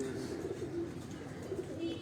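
A golden pigeon kept by a Hazara fancier gives a few soft, close coos over faint background murmur.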